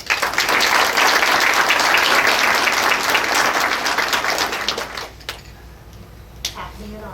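Audience applause at a school district board meeting, a loud sustained burst of clapping from a roomful of people that thins out and fades after about five seconds, leaving scattered claps and room noise.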